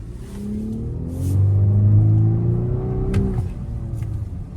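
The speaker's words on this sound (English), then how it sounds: "So it accelerates pretty quickly, especially for a vehicle as big as this" A black 2025 VW Atlas Cross Sport SEL R-Line AWD SUV accelerates hard, its engine droning and climbing steadily in pitch, loud and close, then easing off toward the end.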